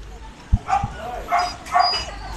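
A dog gives a few short barks and yips in quick succession at close range, then a couple of softer whimpering calls, with a voice speaking at times.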